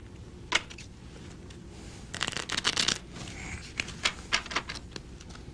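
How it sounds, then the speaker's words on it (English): A deck of playing cards being shuffled close up, with crisp riffling bursts and flicking card snaps in quick irregular runs, fairly quiet and with no talking. "you've all had the experience of shuffling a deck of cards"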